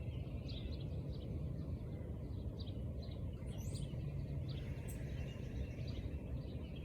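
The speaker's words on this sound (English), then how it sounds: "listen to the birds" Birds chirp and tweet faintly outdoors on a cool morning hiking trail, scattered high calls over a steady low background rumble, no voices.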